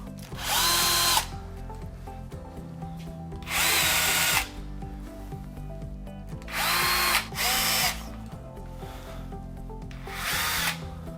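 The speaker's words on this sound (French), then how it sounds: "On va venir percer le mur." A power drill bores into a wall in four loud, separate bursts of a second or so each, with quieter pauses between them and no voices.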